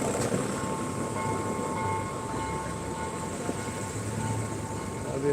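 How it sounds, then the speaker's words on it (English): Behind a skateboarder touring Negombo, Sri Lanka, a train passes with a steady low rumble and faint tonal whine, a continuous moderate drone of rail traffic with street ambience mixed in. "There'll be a train behind us."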